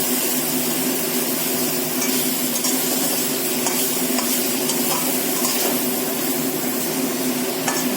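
Fish curry with brinjal is stirred in a pan over steady, loud, close bubbling and sizzling, with faint scraping taps from the utensil and no talking.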